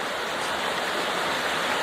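Waterfall at a shrine area in Ujitawara, Japan, heard as a continuous, even hiss of rushing water, moderately soft and unbroken, with no talking.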